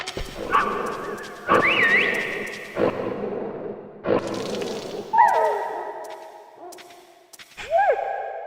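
Dogs bark in the video game Metal Gear Solid, several loud, sharp barks and yelps spaced a second or so apart, with whooshing game effects between them.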